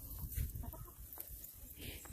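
Backyard farm chickens, hens and a large rooster, cluck softly and sporadically outdoors, faint and scattered over quiet background noise.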